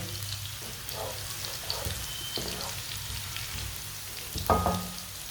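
Onion and garlic frying in very hot oil for noodles, a steady soft sizzle and crackle with a louder burst of spitting near the end.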